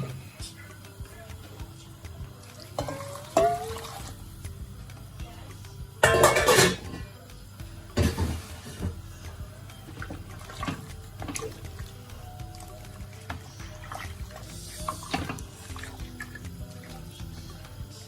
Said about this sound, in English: Now add the water to boil.